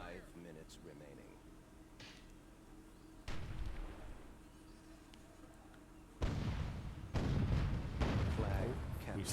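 Deep booming cannon blasts in the game Myth II: Soulblighter strike a few times at a distance amid a low rumbling game soundscape, with talk over it.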